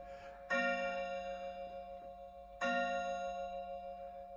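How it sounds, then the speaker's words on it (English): A clock chimes twice with bright, ringing metallic strokes about two seconds apart, each ring sustaining and slowly fading, close and clear with no talk over it. "Clock chiming away."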